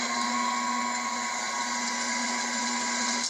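Electric mixer whirring steadily as it beats chocolate devil's food cake batter, a continuous close motor whine with no pauses and no talking.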